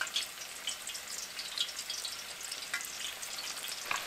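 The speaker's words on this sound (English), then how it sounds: "you're going to continue to fry until all your taquitos are nice, golden, and crispy" Taquitos fry in hot oil with a soft, continuous sizzle and scattered crackles and pops, quiet and close, with no talking.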